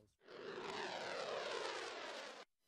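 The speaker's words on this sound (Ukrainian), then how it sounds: "Це літак Boeing AE-18 Growler" A Boeing EA-18 Growler military jet flies past, a loud broad roar that swells in and holds steady for about two seconds before cutting off abruptly.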